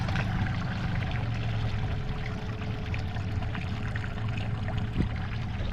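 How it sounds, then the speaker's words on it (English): An Alumacraft Competitor 185 aluminum fishing boat's outboard motor idles down to low RPM at about 2.7 mph, a faint steady low drone with a slight shaky rumble under water and wind noise. "listen really close to the motor."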